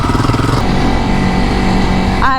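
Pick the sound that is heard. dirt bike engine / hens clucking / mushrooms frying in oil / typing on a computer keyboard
dirt bike engine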